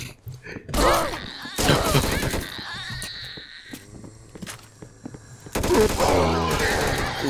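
M4A1 rifle fire in the Roblox game Zombies Outbreak, with loud bursts of rapid automatic shots breaking out several times between quieter stretches of game noise.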